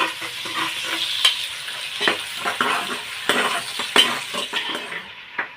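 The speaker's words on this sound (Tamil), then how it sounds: "அதையும் சேர்த்து போட்டு வதக்கிடுங்க." Onion and garlic sautéing in hot oil in a pan for a beef curry, an even sizzle punctuated by irregular spoon scrapes and light metallic clinks against the pan, close and clear, fading off at the end.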